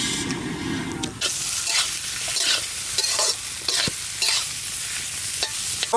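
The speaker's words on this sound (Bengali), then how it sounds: "মশলাপাতি দিয়ে সুন্দর করে কষানো হয়ে গেছে" Spices stir-frying in a pan for an egg curry make a constant close sizzle, with repeated scraping strokes of a spatula across the pan.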